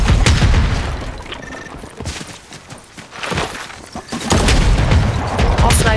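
Sniper rifle shots in a Fortnite match, with several loud booming reports, one at the start and another near the end, heard among dense game effects and busy in-game noise.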